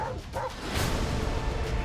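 A dog barks a few short, yipping times, close and fairly loud, amid rustling and a whooshing background.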